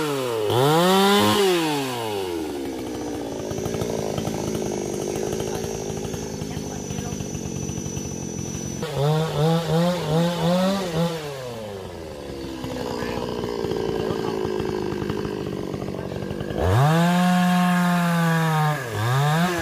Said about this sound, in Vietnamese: Mình cắt lẹ luôn để cho không bị nhánh trên nó xuống đèn.